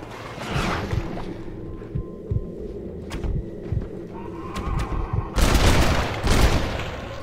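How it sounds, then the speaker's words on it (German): Gunfire in Red Dead Redemption: Undead Nightmare on Xbox One: several sharp shots spaced irregularly, then a louder, denser burst of blasts near the end, all without talk. "Das war ein Schuss zu viel."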